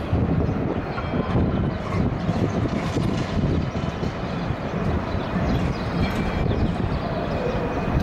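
Trams pass along Collins Street in Melbourne, a loud, continuous rumble of wheels on rail with broadband city and wind noise, heard up close from a hotel balcony.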